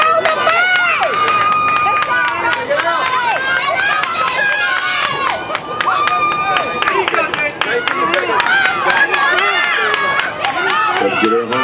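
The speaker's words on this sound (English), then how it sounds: "Give her a big round of applause as she comes around." Crowd at a 2013 USATF 800m track race cheers and claps continuously as a runner comes around the final stretch, with loud, dense clapping and voices mixed under an announcer's talk.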